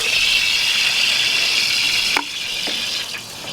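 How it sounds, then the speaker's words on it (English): Running water rinses out a water filter housing aboard a Nordhavn 40 trawler, a steady loud splashing rush that shifts and drops in level partway through as the flow is moved around. "And then I'll just rinse the housing out as well."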